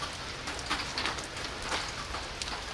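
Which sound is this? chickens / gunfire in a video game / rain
rain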